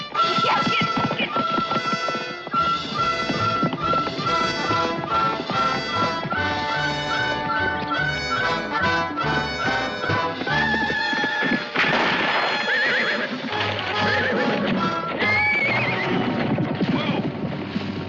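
In a Daniel Boone western TV episode, a gun-shy horse neighs and gallops off, its hoofbeats and whinnies loud under a dramatic orchestral score that fills the whole passage.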